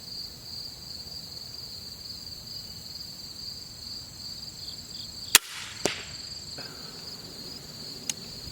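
A TenPoint Viper S 415 crossbow fires a 50-yard shot, a single sharp snap rising above steady cricket chirping outdoors, then a second crack moments later and a faint tick near the end.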